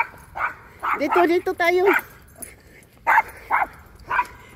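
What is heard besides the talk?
dog barking in a parking garage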